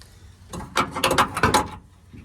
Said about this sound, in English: I think we're better off with this one, the long ratchet